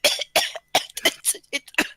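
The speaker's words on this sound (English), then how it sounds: "I walk down and I cough" A person coughs repeatedly, about eight sharp, harsh bursts in quick, uneven succession, close and loud, with no other sound between them.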